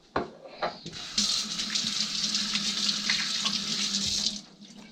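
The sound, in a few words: tap water running while rinsing hands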